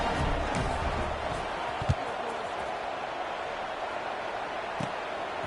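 A stadium crowd in a Madden football video game fills the air with a broad, steady roar of noise, loud and continuous, with a couple of faint thumps rising briefly above it.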